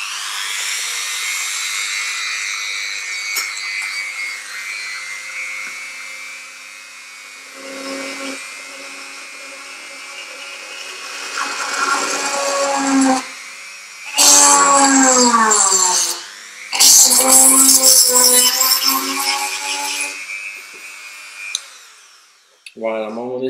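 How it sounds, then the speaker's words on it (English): An electric drill whirs in several bursts of varying pitch, speeding up and slowing down as it bores a hole for a charging plug, close and loud. "This drill bit, I will put a hole in the opposite side for the charging plug."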